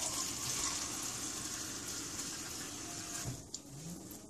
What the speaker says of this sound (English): take two cups and fill one of them with water